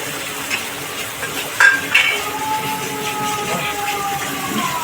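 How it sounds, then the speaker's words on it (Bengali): Spices and ginger paste stir-fried in hot oil for a paneer curry, a steady sizzle with scraping stirs and a couple of sharper utensil knocks, continuous and close. "মশলা তেল আলাদা না হচ্ছে ততক্ষণ উনি এরকম কষিয়ে যাবেন"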